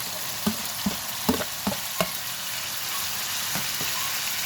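Shrimp paste (alamang) sautéing with cooked tomatoes in a pan for a Bicol-style dish, heard as a steady sizzle broken by several sharp scraping stir strokes, close and moderately loud with no talking.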